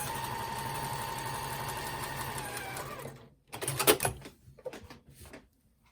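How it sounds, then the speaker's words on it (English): A home sewing machine stitches through two quilt layers for a scrappy placemat, humming steadily and close for about three seconds before stopping, followed by a few soft handling rustles and thumps. "Start somewhere in the middle and stitch through those 2 layers"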